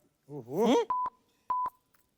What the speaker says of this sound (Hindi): हम कमिश्नर को फोन लगाएंगे बस